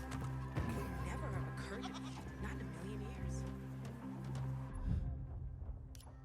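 A goat bleats in a game world, a few wavering calls over a steady background hum and a voice.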